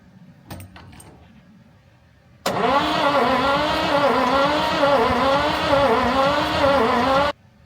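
A Massey Ferguson MF 1200 tractor engine cranks over as it tries to start. After a few faint clanks, a loud, steady mechanical churn with a slow, wavering pulse runs for about five seconds, then cuts off abruptly.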